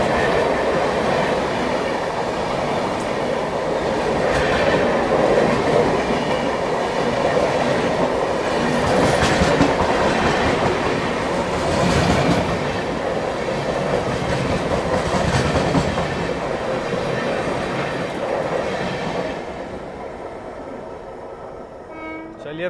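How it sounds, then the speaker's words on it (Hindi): The New Delhi–Gaya Mahabodhi Express passes close by with a steady loud roar and rhythmic clatter of wheels over rail joints, fading slightly near the end. "न्यू दिल्ली गया महाबोधि एक्सप्रेस।"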